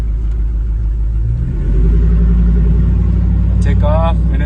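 A vehicle with a 4L60E automatic transmission, shifted into drive on the column, pulls away in first gear. Its engine rumbles loud and close, swelling in strength partway through, and a short high squeak follows near the end.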